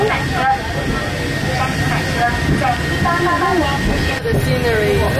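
The Hong Kong Peak Tram rolls uphill in the rain, a low, steady rumble and hum from the carriage that runs beneath people talking throughout.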